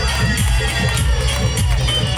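A dense local crowd roars and cheers after a tight win in a cricket match. The noise is loud and continuous, with voices shouting throughout.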